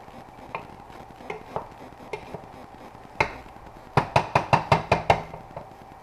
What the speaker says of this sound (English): stirred up a little bit so that the Italian sausage and meat and the ground beef is